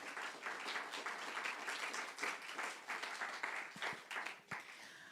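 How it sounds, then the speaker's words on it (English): A room full of audience members applauds a panel at a community policing forum, dense continuous clapping at moderate level that thins slightly toward the end. "Let's have a round of applause for our panel"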